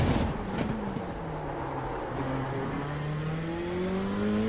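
A GT3 race car engine revving out in third gear in iRacing, a loud steady roar whose pitch climbs smoothly as the revs build, continuous throughout with no speech over it.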